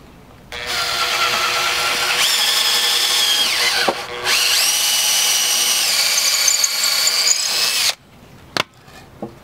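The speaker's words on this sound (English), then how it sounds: "drill the hole" A power drill with a 3/16-inch bit bores a hole through wood for a chicken tractor build, a loud steady whine running about seven seconds with a brief pause and pitch shift midway, then stopping, followed by a few small knocks.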